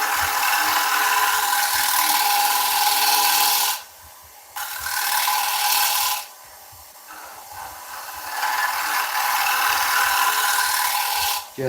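Carbide tool scraping a wooden piece spinning on a lathe, a steady close rasping hiss that drops out twice for short pauses and then resumes.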